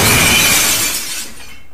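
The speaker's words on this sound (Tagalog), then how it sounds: "tinaas niya yung braso niya, kaya nabasag yung bote" A glass bottle shatters in a loud burst of breaking glass, the crash ringing out and then thinning into scattered tinkling fragments as it fades, with no voices.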